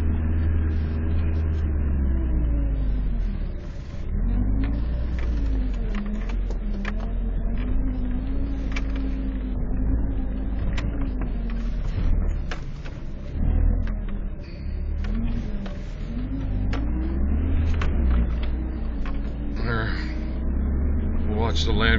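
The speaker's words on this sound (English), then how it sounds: "Watch the Land Cruiser go over the rock. It climbs over the rock." A Toyota Land Cruiser crawls over a rock on an off-road trail, its engine a steady low rumble with shifting revs throughout, with people talking over it.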